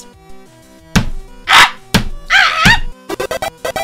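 Hard thumps and whacks of someone beating on a table, a few heavy irregular blows followed by a rapid burst of quick knocks, loud and close, mixed with vocal shouts and groans.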